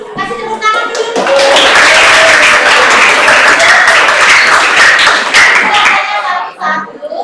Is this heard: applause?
yes